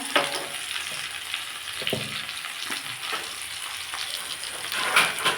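Potatoes fry in a pan with tomato and dried red chilies, giving a soft, continuous sizzle broken by a few stirring scrapes and clicks, heard close and alone.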